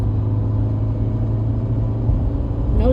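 A 2015 Subaru Outback with a worn rear differential coasting off throttle gives a loud, steady low droning hum inside the cabin, mixed with road rumble and no speech.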